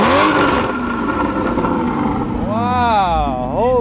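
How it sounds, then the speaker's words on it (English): Porsche Cayman GT4 engine revving close by, a rising and falling howl swept up and down a few times over a steady rumble, with wind noise throughout. "You want me to give you some revs?"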